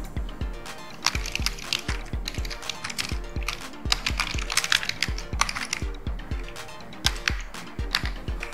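Close, steady clatter of a computer keyboard as someone types continuously, with rapid irregular keystrokes and a few louder key presses throughout.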